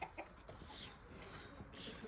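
Buff Orpington hens cluck softly and intermittently over a low, noisy background, faint and somewhat distant.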